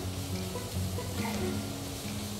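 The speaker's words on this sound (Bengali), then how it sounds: "ঘি এবং গাজর ভাজা হচ্ছে, চমৎকার একটা ফ্লেভার এসছে," Carrots fry in ghee in a kitchen pan, giving a faint, steady sizzle under a continuous low hum of background noise, with no talking.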